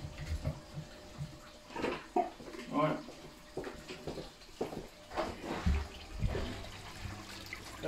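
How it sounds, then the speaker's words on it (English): Pond water splashes and pours into a container in a few bursts up close, with someone talking between and over the pouring while adding fluke treatment. "Chuck that in there with it and put this pond water with it"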